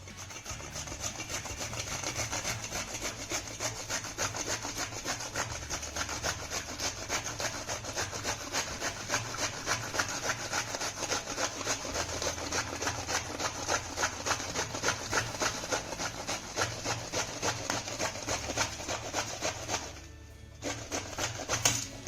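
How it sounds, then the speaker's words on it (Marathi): Eggplants are grated by hand on a large kitchen grater, a fast, even run of rasping scrapes that repeats steadily and close, then breaks off briefly near the end. "आपण ही वांगी किसून घेऊया"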